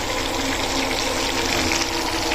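Water running steadily for boiling pasta, a loud continuous gushing rush like a tap filling a pot, unbroken and close.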